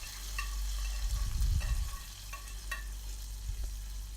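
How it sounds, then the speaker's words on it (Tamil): Mustard seeds, urad dal and curry leaves sizzling in hot oil as the tempering is poured into Kumbakonam-style kadappa, a loud burst of frying and crackle that settles into a steady low sizzle with faint stirring clicks. "இப்போது நம்ம ரெடி பண்ணி வச்சுருக்க கடப்பால் இதை சேர்த்துடலாம்"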